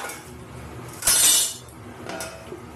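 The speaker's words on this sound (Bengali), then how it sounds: "চলো মাছের ঝোলটা আমি ঢাকা দিয়ে দিই" A lid set on a pot of simmering singi fish curry, a single sharp metallic clink over low background sizzling, followed by a fainter tap.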